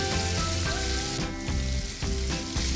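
Chicken wings frying in oil on medium heat, a dense, steady sizzle and crackle throughout, close and loud with a faint hum beneath.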